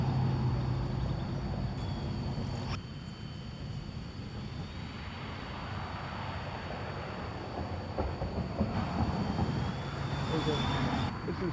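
A Kinetic 800 electric model airplane flying over a parking lot in a state park, a continuous motor drone rising and falling as it passes, with faint voices in the background.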